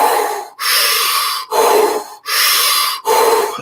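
Exaggerated deep circular breathing, close and loud: four long, forceful breaths that flow one into the next with only brief breaks, each a broad rushing airflow with no pause at the top or bottom.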